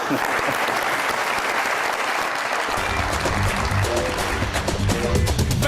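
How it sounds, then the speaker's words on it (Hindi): Studio audience on a Pakistani comedy talk show bursts into sustained applause, dense clapping that swells and continues for several seconds with some crowd noise. "बहुत सारी तालियां।"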